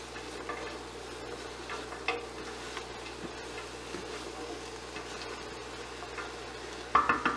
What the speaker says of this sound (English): part of the reason we're stirring it is we're getting everything nicely coated in that olive oil